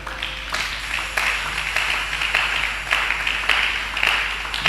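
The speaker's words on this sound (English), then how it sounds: "You do clap." Church congregation clapping during a sermon, a steady wash of many hands applauding together at moderate loudness with a few sharper bursts, and no voices over it.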